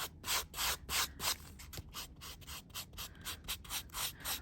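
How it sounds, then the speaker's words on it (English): A heavily worn buff rubs ink off copper or aluminium metal tape art in repeated short scrubbing strokes, a soft dry rasping that comes close and rhythmic with brief pauses between passes. "let's use our buff, and this is a very worn buff, to gently"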